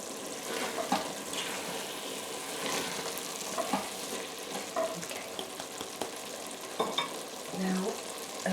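Aloo matar paneer being stirred in a pan in a home Indian kitchen, with a soft continuous sizzle under repeated scraping and clinking strokes of the spoon, close and fairly gentle.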